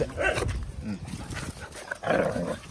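On a farm, a dog yaps and barks close by in short excited bursts, mixed with people talking over it.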